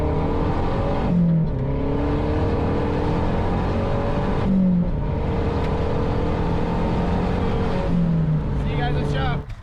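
A 2000s Infiniti G35 accelerating hard, its engine note rising steadily through the gears with brief dips at each shift, loud and close from inside the cabin.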